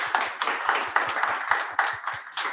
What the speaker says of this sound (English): So I'll give a big round of applause for all of them.